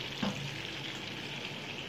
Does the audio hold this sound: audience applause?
no